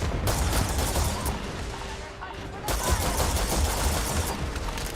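A starship weapon system firing in Starfield, dense continuous rapid bursts with a brief lull midway before the barrage resumes, loud and sustained.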